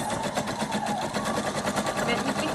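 A sewing machine fitted with a gathering foot stitches fabric for a girl's ruffled skirt, running in a fast, even mechanical rhythm close by while a voice talks over it.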